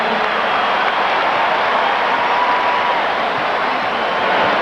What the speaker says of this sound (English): This crowd is going berserk.